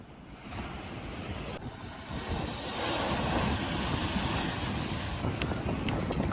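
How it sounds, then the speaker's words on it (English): Surf washing onto a secluded beach enclosed by rock formations, a steady broad rush of breaking waves that builds slightly louder partway through, with some wind noise over the microphone and no voices. "such a beautiful, secluded beach, almost made into a private beach by these rock formations at regular intervals"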